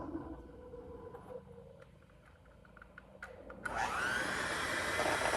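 A homemade ice cream mixture is churned by an electric mixer. Low indoor rumble and clicks come first, then the motor spins up into a loud, steady high whine that holds to the end.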